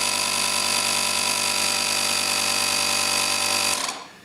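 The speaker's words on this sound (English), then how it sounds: "This right here is the air compressor" A portable power station's built-in air compressor runs with a steady, loud mechanical whine and hum for several seconds, then shuts off abruptly and winds down into quiet.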